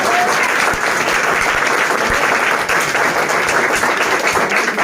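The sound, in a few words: applause for a physics teacher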